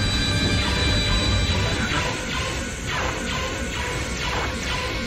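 Loud, continuous smashing and crashing of objects in LEGO Star Wars The Complete Saga, a steady dense clatter of breaking pieces with repeated impacts throughout.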